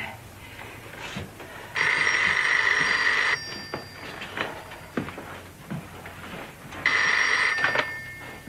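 A telephone bell rings in an apartment: two long, bright, steady rings separated by a pause, fairly close and loud against a quiet room with faint background movement.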